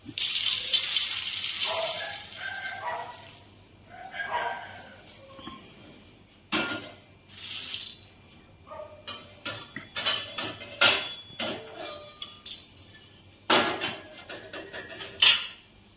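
Dry-roasted spices for mutton kulambu are scraped and tipped from one metal pan into another vessel, giving clattering pot-and-spoon rattles and scrapes in irregular bursts, close and fairly loud, with no talk.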